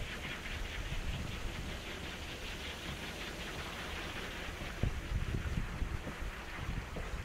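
Steady outdoor wind blowing past a 24-volt DIY e-bike hub motor wind generator, a constant broadband rushing roar with microphone buffeting and a few louder gusts toward the end.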